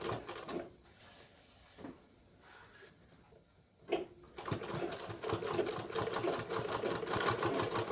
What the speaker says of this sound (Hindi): और उसके बाद यहाँ पर हमें सिलाई चलानी है।